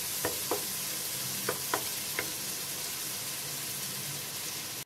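Finely chopped tomatoes sautéing in a pan for a dhaba-style daal mash, a steady close sizzle with a handful of sharp scraping stirs in the first half, no voices.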